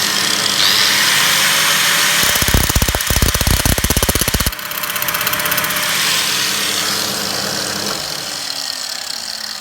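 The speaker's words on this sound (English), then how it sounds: "we're going to turn this and use the angle grinder on the same method." Angle grinder working on a VW Corrado headlight adjuster part, a loud high whine with a rapid chattering burst of grinding contact in the middle, then continuing to spin and wind down.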